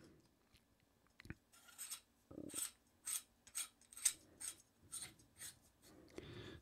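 A Shure KSM353 ribbon microphone being slid and fitted into its shock mount, giving a run of quiet rhythmic scraping and clicking contacts, close and soft with brief pauses between them.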